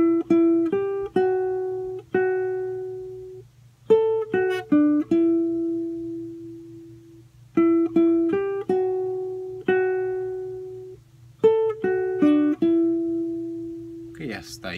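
A charango plays a repeating melody phrase, bright plucked notes in short clustered runs with ringing sustained tones between, close and clear, the phrase cycling several times without talk.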